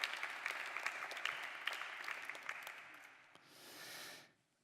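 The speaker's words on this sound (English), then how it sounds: "Can I have a warm applause for Dr. Yilmaz Dwiezior?" Audience applause for a guest at a museum panel discussion on diversity, a dense patter of clapping that holds steady for several seconds, then thins and fades out with a brief final swell.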